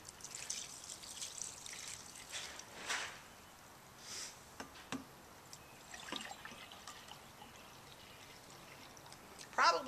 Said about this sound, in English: I'm going to put 2 cups of the dye in each of my containers.